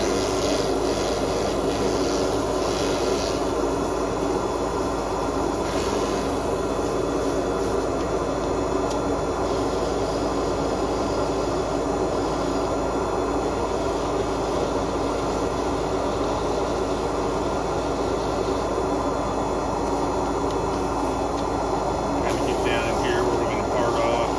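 Steady rasping of 600-grit sandpaper against wood spinning on a lathe over a constant machine whir, continuous and fairly loud throughout.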